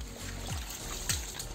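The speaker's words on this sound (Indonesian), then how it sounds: "Kalau enggak bisa terendam semua, disiram-siram seperti ini." Water poured by hand over the leaves of a newly unboxed orchid, a soft steady trickle and splash with two brief heavier pours, close and without speech.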